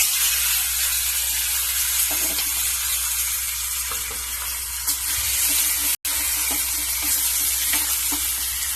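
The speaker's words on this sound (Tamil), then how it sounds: "நல்லா வதங்கிருக்கு பாருங்கள். வெங்காயம் போதும் வதங்கினது." Onion fries in hot oil with curry leaves, dried chillies, mustard seeds and asafoetida, giving a steady close sizzle throughout, broken by occasional stirring scrapes and a brief dropout near the middle.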